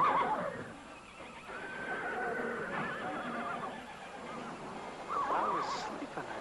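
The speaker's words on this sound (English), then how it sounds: "Those are horses." A herd of horses, some forty or fifty, whinny and neigh at a distance, two shrill calls at the start and end over a low rumbling background.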